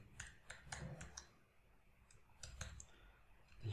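Faint, quiet clicking of keys on a computer keyboard while code is entered, a loose irregular patter of taps over low room hum.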